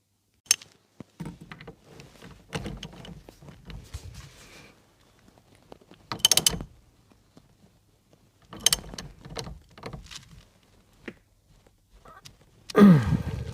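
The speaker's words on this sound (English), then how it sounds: "I'm going to do a final tighten up on the column nut." Work on a Mk2 MR2 steering column nut during a steering wheel install, heard as scattered close mechanical clicks, ratcheting and clunks with quiet gaps and a louder knock near the end.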